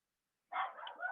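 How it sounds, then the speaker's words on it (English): A puppy barks once indoors, a sudden short yappy bark that breaks out of silence and trails off within about half a second. "I have a puppy and he's barking"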